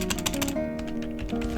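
Rapid clicky keystrokes on a computer keyboard while writing code, a close burst of quick taps followed by a few more scattered presses over a low background hum.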